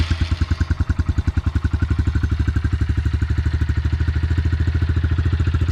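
A Honda CRF125 dirt bike's single-cylinder engine idling close by, a loud, steady rapid thumping putter that holds an even rhythm throughout with no voices.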